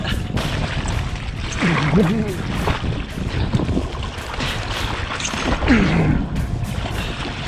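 Heavy wind roar and choppy waves slapping around a foil kitesurfer, loud and continuous with repeated splashing bursts, while a voice is heard briefly in the gusts.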